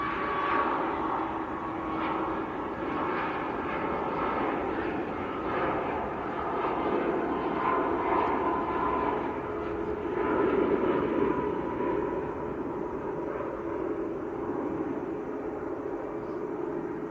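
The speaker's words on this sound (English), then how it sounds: "That was a Ryanair to Alicante." A Ryanair jet bound for Alicante climbs out of Manchester Airport, giving a steady broad engine roar heard from some distance that swells slightly and then slowly fades, with no talking.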